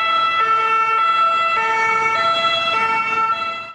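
An ambulance siren wails in a repeating two-tone cycle, loud and continuous for several seconds with road traffic underneath, no talking.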